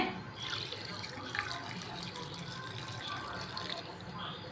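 Water poured into a fish mixture for a traditional Kerala fish peera dish, a soft continuous splashing pour heard fairly faintly and close throughout.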